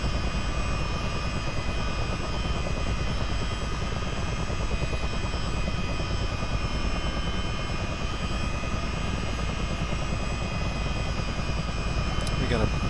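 Twin engines of a CH-47D Chinook helicopter run steadily in a motion simulator, a loud continuous rotor and turbine drone filling the whole span, with a brief sharp transient near the end.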